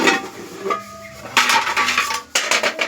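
A lid being set over a pot of village-style beef kacchi biryani: a few distinct metallic clanks and rattles in about three seconds, close and fairly loud, with short quiet gaps between them.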